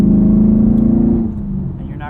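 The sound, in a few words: car engine accelerating under full throttle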